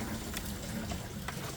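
Water from a kitchen faucet's pull-down sprayer in single-stream mode runs in a steady, moderately faint rush, alone with no voices.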